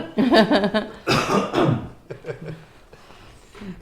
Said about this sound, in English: I'm going to cough again now